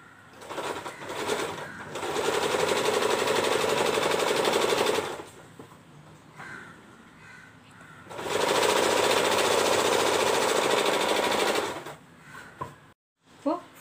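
A sewing machine stitches along the zipper of a lehenga in two long bursts of rapid, steady mechanical whirring, close and loud, separated by quiet handling of the fabric.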